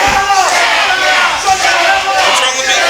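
Wrestling crowd at a PCW Prospects championship match between Big Don Stockton and All-Pro Reyno, many voices shouting and jeering together in a loud, steady roar throughout, with a few individual yells poking through the din.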